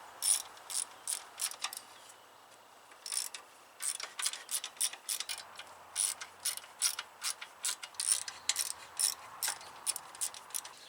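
A ratchet wrench removes 10 mm bolts on a Craftsman lawn tractor with a Kohler engine, clicking in quick repeated bursts with short pauses between strokes, close and clear with no talk.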